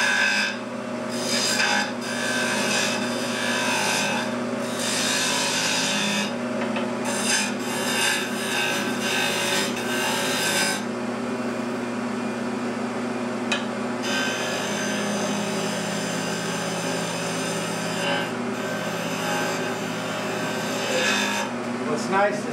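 A skew chisel rides the bevel while cutting wood on a lathe while turning a lidded box, giving a steady continuous rasping hiss with a constant motor hum beneath, with brief dips and rises as the cut changes, and a voice talking throughout.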